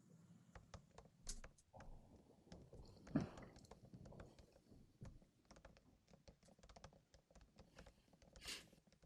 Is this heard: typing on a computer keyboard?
yes